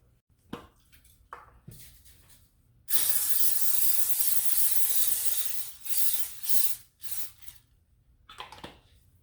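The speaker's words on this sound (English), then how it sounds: "We are going to spray them" A long hiss from an aerosol cooking spray onto beef kabobs, followed by a few shorter bursts, surrounded by quiet clinks and handling noises.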